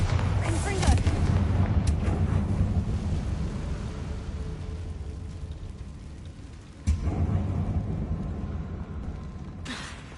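Bombarda and Confringo explosion spells going off in Hogwarts Legacy, a dense, continuous roar of booming blasts with a sharp new burst near the end, loud and close.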